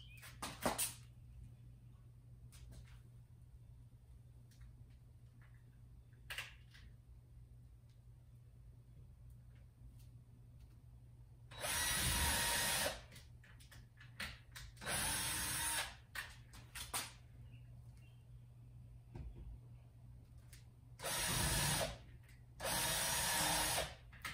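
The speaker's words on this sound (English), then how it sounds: "All I'm really doing is just making a hole behind it." Power drill boring holes in a garage wall beam, several loud whirring bursts of one to two seconds each, separated by quiet handling clicks and rattles.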